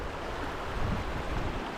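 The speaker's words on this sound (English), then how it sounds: "Listening to the water run down" Water runs steadily down a riverbed at Palacol River, a continuous broad wash of flowing sound, moderately loud and even throughout, with no voices.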